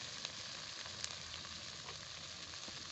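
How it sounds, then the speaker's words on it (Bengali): Spices with turmeric powder and salt frying in oil for a broccoli curry, a steady close sizzle with a few light stirring clicks, no talking. "এবারে মশলা ভালো করে কষিয়ে নেব।"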